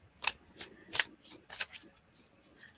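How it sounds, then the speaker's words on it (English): A deck of cards is shuffled close by, several crisp riffling bursts in an irregular rhythm, fairly quiet against a faint background. "you guys hear me shuffling my deck in the background"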